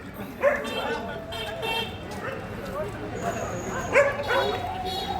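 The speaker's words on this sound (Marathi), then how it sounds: "एवढे मोकाट कुत्रे कुठून येतात" Stray dogs bark and yip on a city street at night, a cluster of barks close by amid background street noise, with brief whining and faint traffic, including a distant horn.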